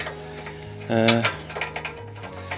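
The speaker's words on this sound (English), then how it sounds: "me off camera doing up a bolt that's barely on camera" A ratchet tightening a bolt on a crash-damaged Porsche 928 gives a short run of clicks about a second in, with a few softer ticks after, all over a steady low hum.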